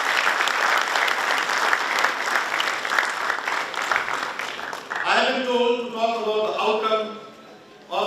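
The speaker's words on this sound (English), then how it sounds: "A huge applause for General K. Singh." Loud, steady audience applause in a university auditorium greets a general, lasting about five seconds before a voice takes over and the clapping fades beneath it.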